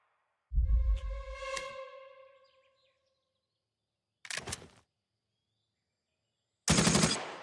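Gunfire in a war video game: a loud close burst of rapid shots with a ringing decay, then a short later burst and a final loud volley, separated by silence.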